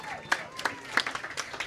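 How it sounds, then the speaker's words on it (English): Scattered applause from a small meetup audience, a few distinct claps, fairly close and light. "so give him a round of applause"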